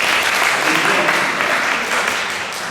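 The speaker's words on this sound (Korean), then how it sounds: "이거 박수 한번 쳐주셨습니다." A lecture audience applauds together during a writing-instruction class: a dense, steady wash of clapping from many hands, loud and continuous, fading slightly toward the end.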